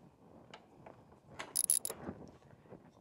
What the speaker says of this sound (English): we're going to set our torque wrench to 46 foot-pounds and we're going to torque in the two slider bolts